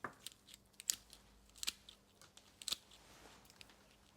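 Pruning shears snipping a maple branch: a few sharp, quiet crisp cuts and clicks, about three distinct snaps spaced across a few seconds, alone without talk.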